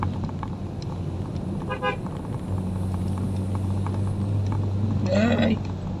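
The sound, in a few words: car horn honking on narrow village road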